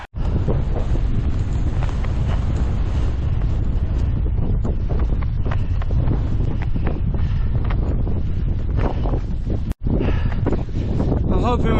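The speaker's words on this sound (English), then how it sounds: "It's very windy up here." Strong, constant wind roars and buffets the microphone on an exposed hilltop walking trail in Wales, loud and unbroken for nearly the whole stretch, with a person talking underneath.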